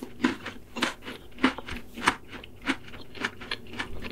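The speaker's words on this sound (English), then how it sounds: "I could get sound effects of someone eating some chips" AI-generated crisp crunching bites of a man eating chips repeat at a steady rhythm, about every half second, close up and moderately loud.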